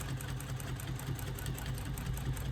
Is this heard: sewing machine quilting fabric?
yes